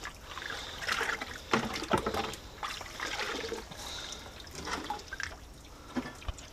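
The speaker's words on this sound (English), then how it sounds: "Just quickly rinse it with clean water." Clean water splashes and trickles over a pool salt cell as it is rinsed, a fairly quiet, uneven run of drips and pours lasting several seconds with no talk.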